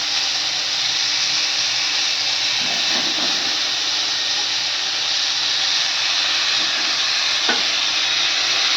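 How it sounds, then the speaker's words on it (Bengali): Washed and drained flattened rice (chira) goes into a hot pan for a turmeric snack, giving a loud, steady frying hiss and sizzle throughout, with faint stirring scrapes and no talking. "জল ঝরিয়ে চিড়েটা আমি দিয়ে দেবো।"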